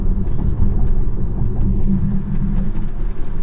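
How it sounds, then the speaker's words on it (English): Steady low rumble of tires on pavement inside a moving VW ID.4, a constant droning road noise with no talking. "it feels like it has a decent amount of road noise"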